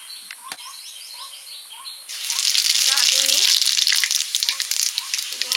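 Mustard oil starts sizzling in a pan partway through, a loud steady frying hiss that swells and holds, with birds chirping outdoors in the background of a village kitchen.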